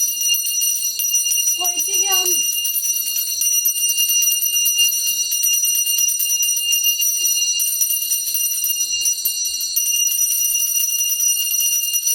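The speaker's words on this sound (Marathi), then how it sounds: "नीट वाजव घंटी हा" A bell rings continuously with a bright, sustained metallic tone during a traditional Dasara custom in the Konkan region. A brief voice is heard early on.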